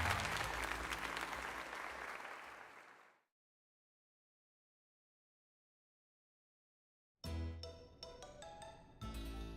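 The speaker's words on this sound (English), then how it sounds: "let us give another heartfelt round of applause to Lily" Applause in Pokémon Legends: Z-A rises loud and dense for about three seconds, fades into silence, then gives way to bright chiming game jingles.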